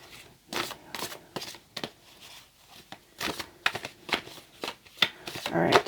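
Tarot cards are shuffled in a repeating series of crisp riffling bursts, close and fairly quiet, with brief pauses between shuffles.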